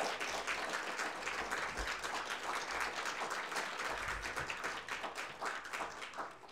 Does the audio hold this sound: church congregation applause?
yes